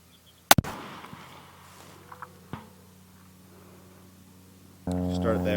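A Ruger American Gen 2 .308 bolt-action rifle fires one sharp, loud shot outdoors at long-range targets, followed by a ringing tail and two fainter distant impacts, then a steady hum enters near the end.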